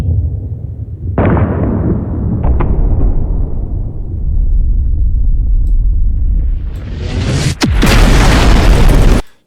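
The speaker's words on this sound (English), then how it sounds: "that sound at the end is the ICBM missile ripped straight from the game" A video game ICBM missile: a deep, sustained rumbling roar builds for several seconds, then a sharp blast and a hissing surge end in a massive explosion before cutting off.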